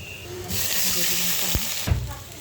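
Bay leaf and cardamom frying in hot oil, a loud steady sizzle with bursts of hiss and a couple of sharp utensil knocks, close up.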